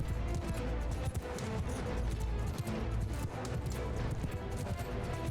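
Cavalry horses in a charge in Mount & Blade II: Bannerlord, a dense, continuous drumming of hooves mixed with clashing battle noise, steady and fairly loud with no pauses.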